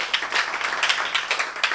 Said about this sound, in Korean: 박수로 맞이해주세요